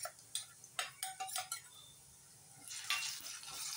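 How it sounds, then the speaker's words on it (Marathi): Ginger garlic paste is stirred in a pan for a spicy chicken masala. A spoon knocks and clinks against the metal in several sharp hits, then a soft scraping sizzle swells near the end. "ती चांगली परतून घेऊया"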